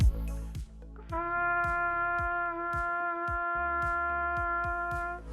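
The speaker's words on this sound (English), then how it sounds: "when I ask them to do that on the trumpet, it sounds like this" Trumpet sounded with a weak, unsupported airstream, a sustained brassy tone that wavers slightly, with a soft rhythmic thumping underneath, close and alone without speech.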